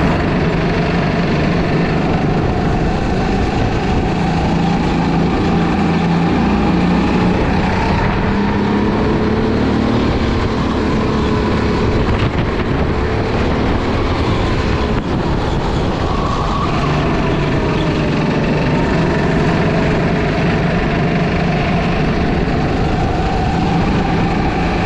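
Racing kart engines on a sprint track, a loud continuous buzzing drone with gently shifting pitch as the kart holds close behind another, steady and close for the whole stretch with no talking.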